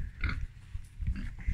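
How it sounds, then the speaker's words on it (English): Pigs at a petting farm giving low, close snuffling grunts in a short, irregular series, fairly quiet. "pigs. They're so disgusting."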